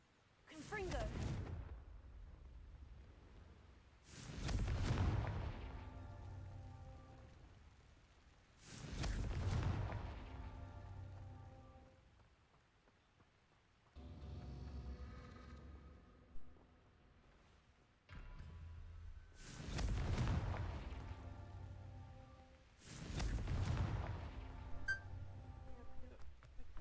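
Confringo explosive spell in Hogwarts Legacy, about six loud booming blasts spaced several seconds apart, each with a sharp onset and a long rumbling decay, fairly close and dominant.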